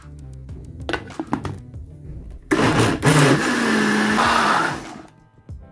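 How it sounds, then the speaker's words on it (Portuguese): A blender mixes a lemon filling of ricotta, lemon zest and melted white chocolate for a creamy lemon pie, starting after a few kitchen clunks and running as a loud, steady whir for about three seconds before stopping. "Bata até misturar."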